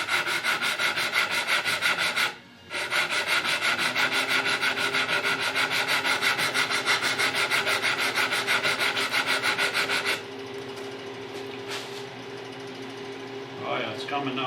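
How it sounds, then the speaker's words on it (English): Steady hand sanding of the wooden body of a Les Paul guitar kit, a continuous rasping rub with a brief pause near the start and a lighter, quieter stretch toward the end. "So you just got to do a little at a time. Sand a little, have a look."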